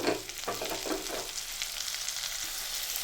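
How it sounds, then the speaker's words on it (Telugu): Chopped onions hit hot oil with whole spices for butter chicken, setting off a loud, dense, close sizzle that carries evenly all the way through, with a few stirring scrapes near the start. "అవి ఫ్రై అయిన తర్వాత చిన్న కప్పు ఆనియన్స్ ఇలా కట్ చేసి వేసుకోండి"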